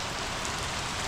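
Steady rain falls outside a workshop during a move, a dense, even hiss of drops on surfaces that holds constant and fairly close throughout, with no voices.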